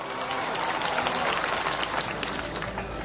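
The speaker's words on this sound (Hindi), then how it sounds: "इसलिए एक बार जोरदार तालियां आप सबके लिए।" An audience at a political rally claps together in sustained, dense applause that carries on throughout, moderately loud, with some crowd noise mixed in.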